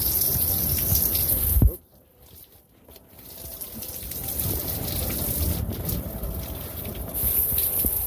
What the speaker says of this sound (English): That's how much rain we're getting.